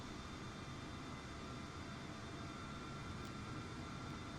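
An Airbus A320neo jet approaching the runway in Microsoft Flight Simulator, its engines a steady, even broadband roar with a faint high whine, unchanging and continuous throughout.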